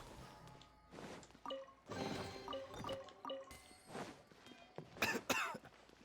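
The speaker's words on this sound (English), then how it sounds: "I love that his sprint just makes him cough." In Genshin Impact, the character Baizhu coughs repeatedly in short bursts while sprinting, amid game sound effects, chimes and footsteps, each cough harsh and close.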